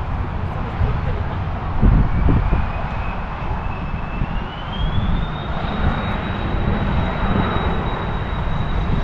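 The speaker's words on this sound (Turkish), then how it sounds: "Ve yine uçak iniyor." A landing propeller airplane's engine drones loudly and steadily, its pitch slowly climbing, under gusty wind and some muffled background noise, in Switzerland.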